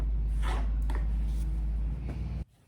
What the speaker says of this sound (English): Sorry about the noise outside, my husband's doing some kind of mowing and stuff.